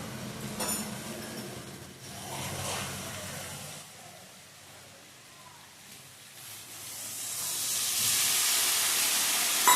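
Water splashed onto Kashmiri chilli powder masala in a hot pan hisses and steams, the hiss fading mid-way then swelling loud again toward the end, with faint clinks early on.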